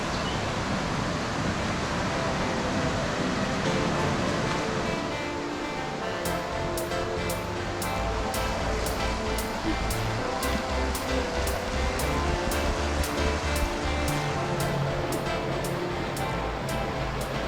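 Creek water rushes steadily at a swimming hole in the Wilson Creek Wilderness area of North Carolina, a continuous, fairly loud wash of flowing water with no voices.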